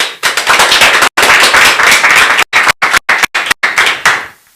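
Audience applause, loud and dense right up close, with several abrupt drop-outs to silence partway through before the clapping fades at the end; no talking.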